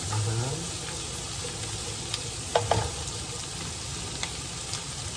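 Pork chops frying in a pan give a steady low sizzle throughout, with a few brief utensil clinks partway through and faint talk in the background.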